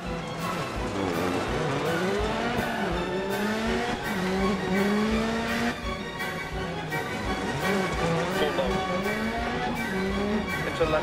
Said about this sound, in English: Here I drive a Volkswagen Polo on the stage Pont Mor on the Wales Rally